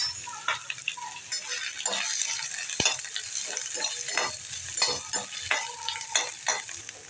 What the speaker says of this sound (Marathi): तेल टाकते थोडं आणि हा कांदा घेते